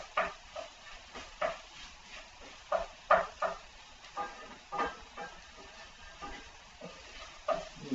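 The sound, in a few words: flour and hamburger cooking in a pan for gravy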